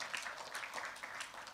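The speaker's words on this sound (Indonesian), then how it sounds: "Tepuk tangan yang panjang buat Tuhan." Church congregation applauding during a sermon, a dense, even patter of many hands clapping together at a moderate distance, with no talking over it.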